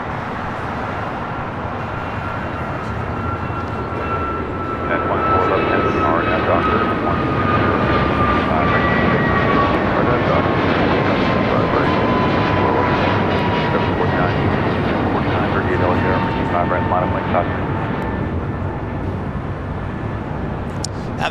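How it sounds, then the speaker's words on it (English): Jet airliner taking off from the south side runways at LAX, a loud steady engine roar that swells after a few seconds and holds with a rising whine for the rest of the stretch. "Next takeoff here on the south side."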